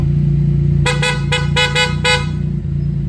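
An aftermarket horn on a Can-Am vehicle honks loudly about six times in quick, uneven toots over the low rumble of an idling engine.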